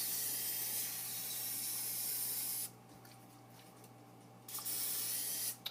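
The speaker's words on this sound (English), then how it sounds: "Now I'm just going to spray the sides." A continuous aerosol cooking spray hisses into a cake pan for a few seconds, then stops; after a quiet pause a second short burst of spray follows.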